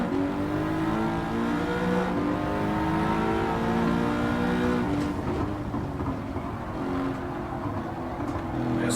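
A race car engine in Gran Turismo 7 revs hard and loud, climbing through the gears with rising whine and shifting pitch, continuous and close for the whole stretch with no talk.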